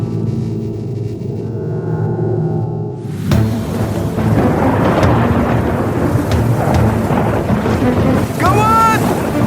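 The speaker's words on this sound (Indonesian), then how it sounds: "Hujan badai ini terlalu kuat!" A loud storm rages at sea around a ship about to sink, with dense roaring rain and thunder rumbling, building after a quieter opening; a brief whistling tone sounds near the end.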